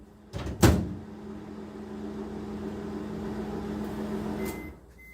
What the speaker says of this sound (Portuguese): Vamos botar mais 1 minuto no micro-ondas